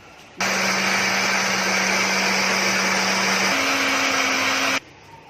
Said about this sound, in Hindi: अब इसको मिक्सी लगाऊंगी